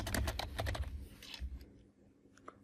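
Quick bursts of clicks on a computer keyboard as a session name is typed, close and crisp, with a short pause and a few final keystrokes.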